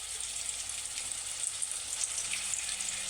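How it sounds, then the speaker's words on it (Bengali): Onion paste with ginger-garlic paste sizzles in hot oil for haleem, a close, steady hissing crackle that holds at an even level throughout with no talking. "এটাকে এখন আমি ভালো করে তেলের মধ্যে কষিয়ে নেব।"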